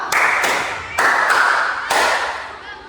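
A group of students claps in unison on a teacher's cue, producing sharp, loud, close claps with short pauses between them; four distinct bursts are evident, and no one speaks.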